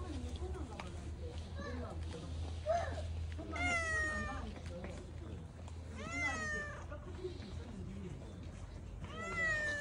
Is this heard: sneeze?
no